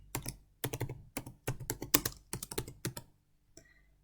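Keys clatter on a computer keyboard in short clustered bursts as a campaign name is typed, close and clear, ending with a pause and a faint final tap.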